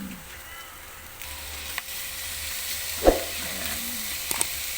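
Adobong kangkong, water spinach, cooking in a pan: a steady, fairly quiet sizzle and frying hiss runs throughout, with a few stirring clinks and a louder scrape partway through.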